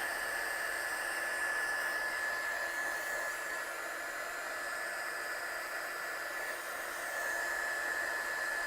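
A hair dryer blows in a steady, even whoosh of airflow throughout, drying acrylic paint on card with no other sounds.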